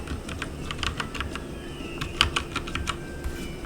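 Rapid clicking of keys on a computer keyboard, a steady run of light close taps with one sharper stroke partway through, alone with no talking.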